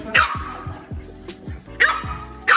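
A puppy barks in quick, close, loud yips, roughly a dozen sharp barks in an uneven rapid rhythm, with a couple of higher squeaky cries mixed in.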